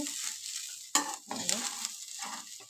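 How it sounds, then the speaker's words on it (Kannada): Sprouted beans sizzle in a pan while being stirred, with several sharp scraping clinks of a spoon against metal over a steady fry. "ಚೆನ್ನಾಗಿ ಇದನ್ನು ಫ್ರೈ ಮಾಡ್ಕೋಬೇಕು"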